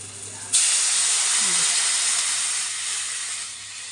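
Hilsa fish broth poured into hot oil with chilli and turmeric sets off a sudden loud hiss of steam and sizzle that holds strongly, then slowly fades.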